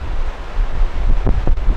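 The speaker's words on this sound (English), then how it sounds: "so it's quite windy" Strong Hurricane Dennis wind roaring and buffeting close to the microphone in Holmfirth, with loud gusty rumble throughout and no talking.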